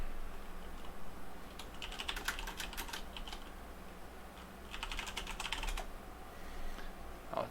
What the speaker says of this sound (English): I'll type it in there for you.